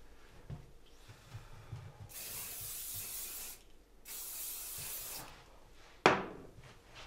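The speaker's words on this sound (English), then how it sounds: "Slightly stronger spray, and don't be afraid" Two long, loud hissing bursts of hairspray, each lasting about a second and a half, followed by a sharp rustle, all close up.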